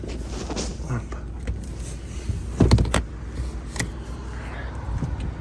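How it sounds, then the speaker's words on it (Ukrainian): Rear seat row of a Chevrolet Captiva 2.2 diesel automatic 4x4 folding down inside the car: a couple of sharp mechanical clunks and latch clicks in the middle, near and fairly loud, over a low interior hum. "Ось так легко відкривається задній ряд."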